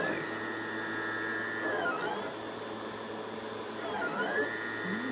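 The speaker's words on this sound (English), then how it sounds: "Got it extruding a bit right here to make sure that the nozzle is primed." A 3D printer extrudes filament to prime its nozzle before a first print, its stepper motors whining in steady tones that glide and sweep in pitch, moderately close, with a faint voice in the background.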